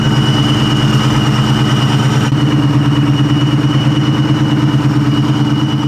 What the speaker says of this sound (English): This Mustang is running extremely well.